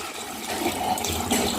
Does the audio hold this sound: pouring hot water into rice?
yes